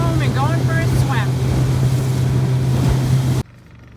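A motorboat motoring home across open water after magnet fishing, a steady close engine drone with wind and water rush throughout, brief voices over it, cutting off near the end.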